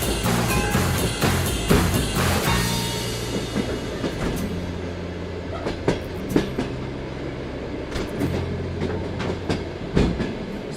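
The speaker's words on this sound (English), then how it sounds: "We're about to get on this train for about 28 hours to go to the middle of nowhere." Passenger train rolling through Siberia on a long-distance journey, with steady low rumble of wheels and carriage, repeated rhythmic clacks over rail joints, loud and close from inside the car, no talking.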